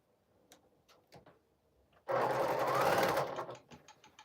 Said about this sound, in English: Let's put in our seam on here.